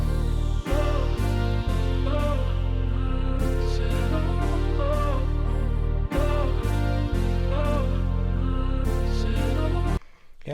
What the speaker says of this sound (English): So last thing I added was a sweep, a simple sound effect to give it some new transitions